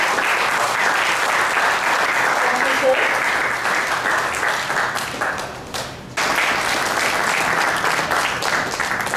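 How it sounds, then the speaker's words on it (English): Crowd applause at an annual science awards programme, a thick wash of clapping that dips briefly midway and then resumes at full strength, with a voice speaking briefly over it. "Yes, an applause for Dr. Ajay Ghosh"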